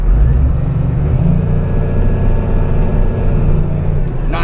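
Komatsu WA180 wheel loader with 8,100 hours driving in reverse, a loud, steady diesel engine drone with low rumble from close by throughout.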